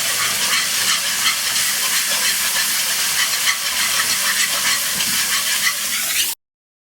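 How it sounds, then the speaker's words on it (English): Milk being whisked steadily into a sauce in a hot pan for rigatoni alla vodka, a continuous bright hissing sizzle with faint stirring, close and even throughout, stopping abruptly at the end. "in the milk a little bit at a time. A little bit at a time. I'm just going to constantly whisk it."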